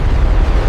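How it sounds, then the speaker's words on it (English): A massive explosion erupting inside a frozen mountain, a loud, sustained deep rumbling boom that fills the short moment with heavy low-end roar and no voices. "a massive explosion erupted inside a frozen mountain."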